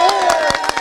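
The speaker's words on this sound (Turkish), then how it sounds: "Alkış, alkış" Brief burst of scattered clapping and cheering from a crowd, with voices mixed in, lasting under a second.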